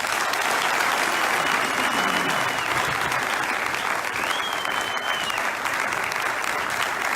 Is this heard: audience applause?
yes